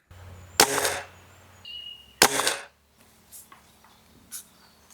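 A TX200 air rifle fired at a paper target card, two sharp close cracks with short reverberant tails a couple of seconds apart, followed by faint clicks and handling noises.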